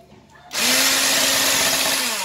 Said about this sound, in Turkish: Şimdi güzelce blenderdan şöyle bir 3-4 dakika kadar geçireceğim bunu.